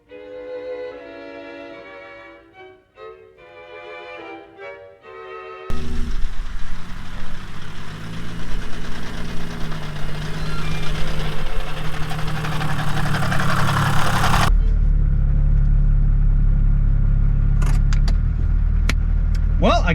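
An abandoned 1980s-era Volvo 740 with a D24T turbo diesel engine idles, then runs louder with a rough mid-low engine drone and a steady rumble that continues to the end, with some clinks and a faint voice.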